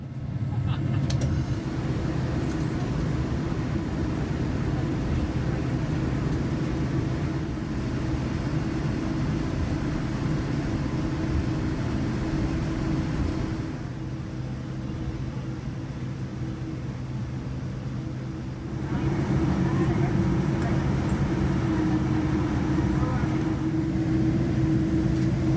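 Cabin of an Air Canada Boeing 787-9 Dreamliner taxiing at Toronto Pearson toward Terminal 1: a steady low engine and rolling drone throughout, dipping briefly then rising again, with a voice talking over it at times.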